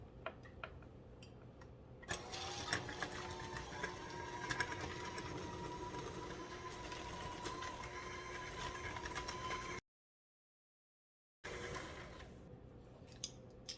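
Cookie batter is mixed in a continuous mechanical whir with fine ticking, like a hand mixer running close by, which drops out briefly before resuming.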